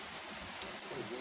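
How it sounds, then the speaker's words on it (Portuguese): Rain falls steadily outdoors beside a house bathroom under renovation, a soft continuous hiss of drops on surfaces with scattered faint taps, fairly distant and alone without talk. "Ué, agora trancou mesmo a chuva."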